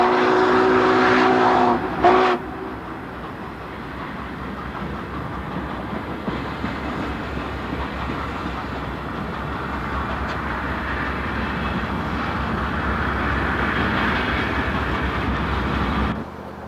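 An old Norfolk & Western steam train easing into the west end of the Crewe yard, loud and close, with a steady rolling rumble and clatter of cars that holds throughout.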